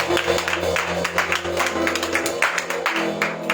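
A church congregation applauding during a worship service: a sustained patter of clapping hands spread through the room, mixed with music and voices, moderately loud throughout.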